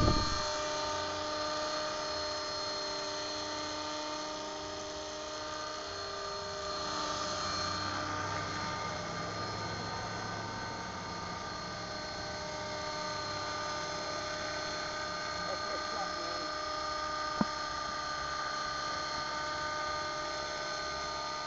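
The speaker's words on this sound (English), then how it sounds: "that's me flying my helicopter though" An Agusta 109 K2 helicopter flies steadily with a sustained turbine whine and rotor drone throughout, fairly even in loudness, with a brief sharp click partway through and no talk.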